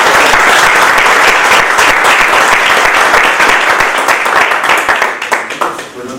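A hall audience gives loud, dense applause, many hands clapping together at close range before thinning out and fading toward the end.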